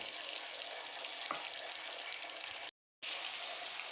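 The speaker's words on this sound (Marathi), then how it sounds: "आपल्या भेंडी चांगली डीप फ्राय होती आहे" Okra deep-fries in hot oil for crispy bhindi, a dense, even, continuous sizzle and bubbling hiss at close range, briefly cut out once, with no talking.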